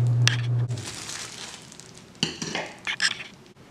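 Typewriter ribbon being pulled off a metal spool, with a low hum at first, then rustling, scraping and a few sharp light metallic clicks close by.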